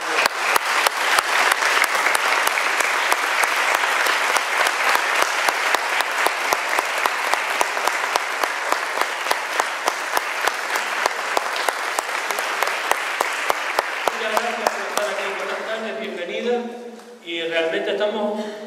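Sustained audience applause at a Canary Islands Day celebration concert, a loud dense ovation with a steady rhythmic clap pulse running through it, fading after about fifteen seconds as a voice begins speaking.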